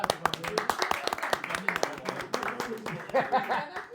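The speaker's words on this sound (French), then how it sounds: "on applaudit quand même pour lui" Scattered audience clapping at a French stand-up comedy club show, distinct claps in an uneven rhythm with a little laughter mixed in.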